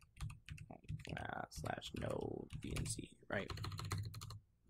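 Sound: typing a git clone command on a computer keyboard

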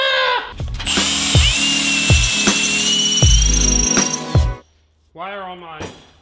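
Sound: power drill drilling with dull drill bits

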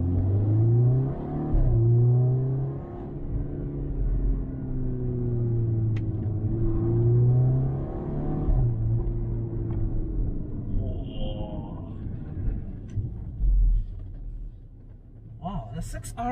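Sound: VW Golf 6 R accelerating while driving

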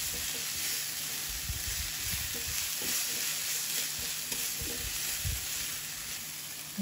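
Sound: stirring minced garlic frying in a pan

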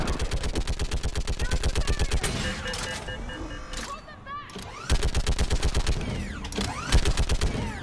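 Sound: gunfire from mounted gun in video game Mass Effect 3

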